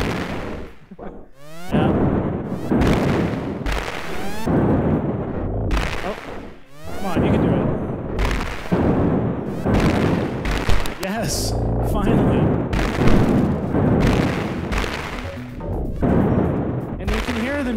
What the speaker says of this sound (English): I'm actually not so good at shooting either.